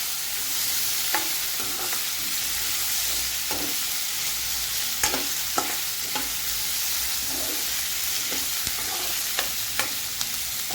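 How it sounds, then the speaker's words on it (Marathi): Tomatoes cooking down in a pan with onion and green chillies for a paneer curry, a continuous sizzle broken by repeated spoon scrapes and stirring clicks against the pan, no voices. "त्यानंतर आपण ह्यामध्ये टोमॅटो टाकतो, ते पण आपल्याला ह्याच्यामध्ये शिजवून घ्यायचे।"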